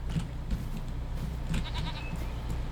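Goats bleating in Farming Simulator 25, adults and young kids in tall meadow grass, a few short high bleats over a steady low outdoor ambience, moderately near.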